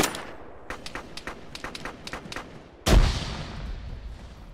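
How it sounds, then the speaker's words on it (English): Gunfire crackles in a rapid burst of sharp shots in an ArmA ShackTac urban battle, then a loud grenade explosion booms nearby and its rumble decays into the surroundings. "Grenade out!"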